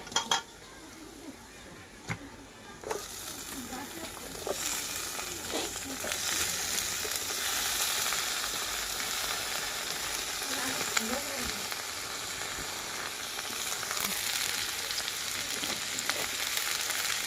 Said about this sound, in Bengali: এই যে রসুন আর পেঁয়াজটাকে আমরা হচ্ছে ভেজে নিয়েছি